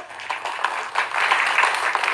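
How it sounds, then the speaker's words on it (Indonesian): Audience applause at a Central Kalimantan gubernatorial candidates' debate for the 2020 regional election, a steady wash of many hands clapping from a moderately distant crowd, lasting a couple of seconds with no talk over it. "Boleh tepuk tangan Bapak Ibu."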